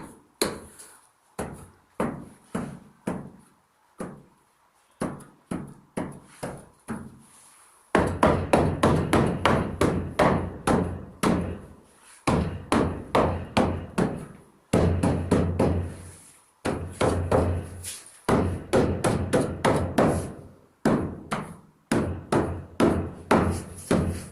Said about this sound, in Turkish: malanın vurulmadığı bir nokta kalmayacak şekilde güzelce yapıştırmasını